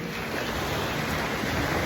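Sea waves wash steadily on a crowded seaside beach on a cool day, a continuous soft roar of surf mixed with light wind noise, no voices.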